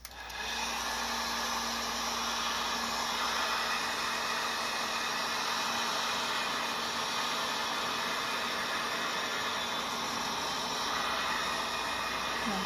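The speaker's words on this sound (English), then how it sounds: "So then I'm going to dry it." A hair dryer blows steadily on a craft centerpiece made from dollar store items, giving a continuous, loud, even whoosh with a faint motor hum underneath that runs the whole time without pause.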